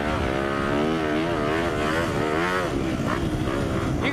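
A KTM 350 dirt bike being ridden, its engine droning steadily and loudly close by with rising and falling revs and heavy wind buffeting throughout, no talk.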